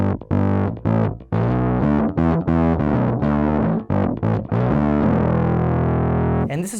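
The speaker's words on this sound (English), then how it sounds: "what they would consider to be like a regular normal distortion sound" A bass guitar through a distortion pedal plays a riff of choppy, fuzzy notes, then holds a long saturated note that rings out before cutting off.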